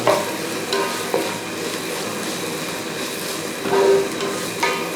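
Ground onion and beef sautéing in a pan for Kerala-style beef ularthu, a steady sizzle with scraping stirring strokes that swell at intervals, close and fairly loud.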